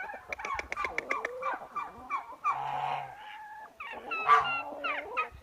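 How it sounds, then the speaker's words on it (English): An Icelandic rooster calls out with a run of loud, close, harsh gobbling and crowing bursts, broken by short pauses, with a strained cry near the end and no talking over it. "So I have this rooster and his name is Eyjafallajökull."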